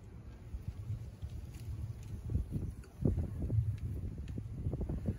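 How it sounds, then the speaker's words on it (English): Wind blows steadily across an outdoor plaza at a memorial gathering, buffeting the microphone with low rumbling gusts and no speech heard. "It's a little bit windy today"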